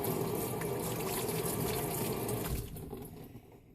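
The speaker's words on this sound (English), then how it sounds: "now that it's soaking up, I'm going to rinse off my hands" Hands are rinsed under a running kitchen tap, a steady close rush of water splashing into a sink that cuts off after a few seconds and leaves faint dripping.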